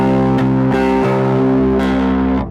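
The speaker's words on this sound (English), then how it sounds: "I actually love that drive. I love that effect." Bass guitar played through a drive effect pedal, a few sustained distorted notes with a fizzy, buzzing treble edge, loud and close, ringing out alone before cutting off.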